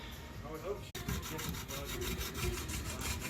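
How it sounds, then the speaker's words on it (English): Rhythmic back-and-forth rubbing of wet sandpaper on an oxidized engine top plate from a 1986 Nissan 200ZR twin cam 24 valve engine, close and steady strokes with a brief pause near the start. "We're going to go ahead and wet sand this down, polish it up"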